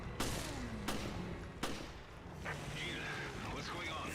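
Sharp gunshots in a Resident Evil game set on an infected cruise ship, several separate loud cracks spaced irregularly over a few seconds amid game ambience, with some talk.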